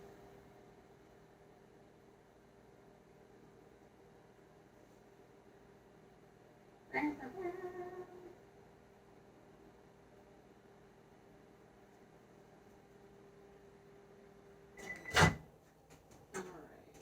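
A microwave oven heating wax gives a low steady hum throughout, interrupted by a couple of clunks and a sharp beep near the end.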